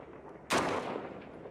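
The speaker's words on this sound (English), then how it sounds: "they're shooting back" A single sharp gunshot of return fire cracks out, followed by a short echoing decay against a quiet background.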